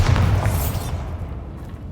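The Bombarda blasting spell in Hogwarts Legacy, aimed at a bridge, goes off as a deep booming explosion with a bright crackle at the start that fades into a rumbling tail within about a second.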